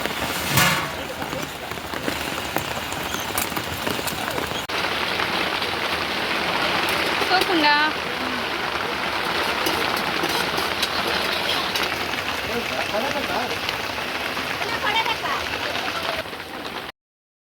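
Steady rain pours down during a monsoon trip toward Chikli river, a continuous dense hiss that fills the whole stretch at a fairly loud, even level, with a few faint voices underneath.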